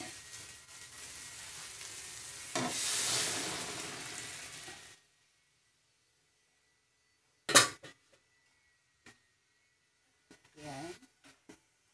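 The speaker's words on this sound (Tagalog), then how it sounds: "Ilagay na natin yung munggo, guys" Mung beans tipped into a hot frying pan for sautéed monggo with smoked fish, giving a sudden loud hiss that sizzles for a few seconds, then cuts off. A few brief clinks and scrapes follow in near quiet.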